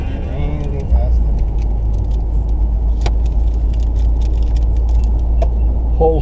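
Drag racing cars launching off the line, an Evo against a Ford Lightning, with a steady loud engine drone and low rumble throughout and a sharper burst near the start.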